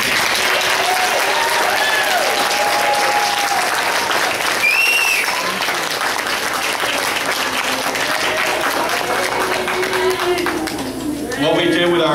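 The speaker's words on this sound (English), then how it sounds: "So I would like to give a round of applause to our typical peers." An audience at a kids' end-of-camp celebration keeps up sustained, loud applause. A few high voices and cheers rise over the clapping, and some people talk underneath it.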